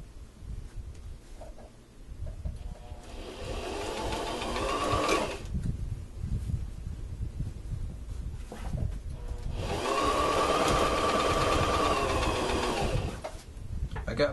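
A freshly oiled sewing machine stitches fabric for a workout hoodie set in two sustained running bursts, close and steady, with quieter gaps between where a person talks.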